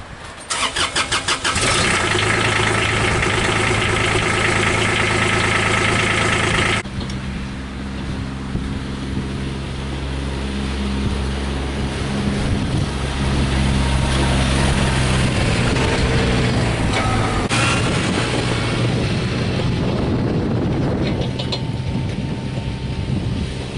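A Kubota tractor engine cranks with a rapid starter chatter, then catches and runs at a loud, steady mid-pitched idle for a long stretch close by, rising slightly as it moves; no one speaks.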